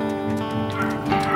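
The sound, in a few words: dogs barking and whimpering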